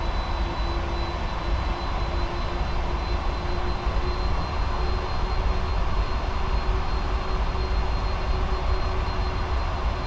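Steady, loud jet engine roar from a PMDG 747-400 airliner in a P3D flight simulator as thrust is added to begin taxiing, a continuous broadband rumble with a faint whine and no talking.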